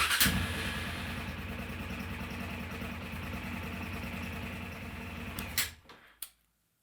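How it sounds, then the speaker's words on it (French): A motorcycle engine runs at a steady idle while warming up, a continuous close mechanical hum with a fine rapid pulse that holds for several seconds, then cuts off with a couple of clunks before falling silent. "On va pouvoir maintenant mettre la moto en route, la laisser chauffer un petit peu."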